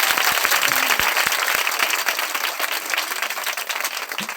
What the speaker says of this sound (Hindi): मेरे लिए ताली नहीं बजाओगे?